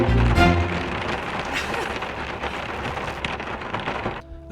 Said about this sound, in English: Finally arrived and the rain hasn't eased.